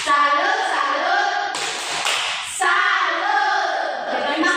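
Children chant in unison with rhythmic hand claps in a classroom, voices carrying a sung pattern broken by a short burst of clapping in the middle before the chant resumes.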